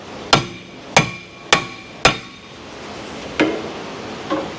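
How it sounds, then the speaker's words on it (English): A pry hammer bangs on a stuck, crusty brake rotor: four sharp, loud metallic strikes in a steady rhythm, then two softer hits after a pause. "Pry hammer."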